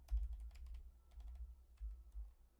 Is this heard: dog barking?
no